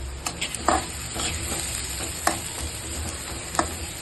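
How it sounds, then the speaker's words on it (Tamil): Onions sautéing in a pan for keerai kuzhambu, a steady close sizzle broken by occasional scrapes and taps of stirring, no one talking. "நல்லா வதக்கிக்கலாம்."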